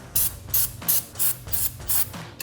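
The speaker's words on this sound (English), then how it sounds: "You use brake cleaner or anything just to clean this area" Brake cleaner sprays onto the brake area of a 2010-2015 Camaro Super Sport in six short, loud hissing bursts at a steady pace, close up and without talk.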